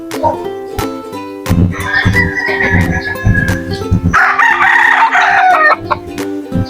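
Pet chickens cluck and a rooster crows close by as they wait to be fed in a yard, with a bird call rising near the end.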